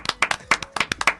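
Live audience applause at a studio music show, a burst of sharp hand claps in an irregular rhythm, fairly close and loud, with no talk over it.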